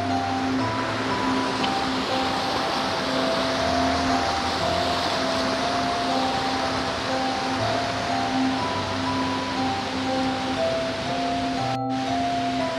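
A river flows through the mountain valley of Lembah Cilengkrang in Kuningan, West Java, making a steady, loud rushing wash of water that continues without a break, with no talking.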